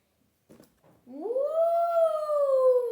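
A dog in the video game Minecraft gives a long, rising then level whine or howl after two short soft sounds, clear and close, with no talking.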